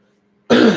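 A single dry, hacking cough bursts out suddenly after near silence, close and loud, raspy with nothing coming up.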